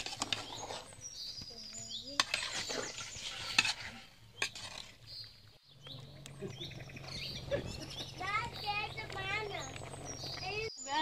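Country chicken pieces sautéing in a pan for a curry crackle gently with repeated stirring clatter, while someone talks over it and birds chirp in the background.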